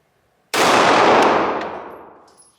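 A single 9mm Glock 19X pistol shot at an outdoor range, a sharp loud crack that rings out and decays over about two seconds, with a faint metallic ping from a steel target.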